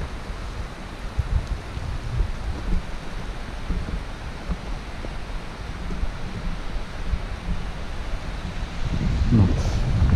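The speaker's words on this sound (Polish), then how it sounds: "Taki podmuch intensywny." Intense wind gust sweeping a snowy winter mountain trail on Mogielica, a steady broadband roar that swells louder toward the end.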